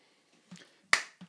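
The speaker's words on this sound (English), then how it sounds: "That is a meek clap." A single sharp hand clap used to sync lights with sound on a small podcast set, quiet and close, with a few soft handling noises before it and one faint tap after.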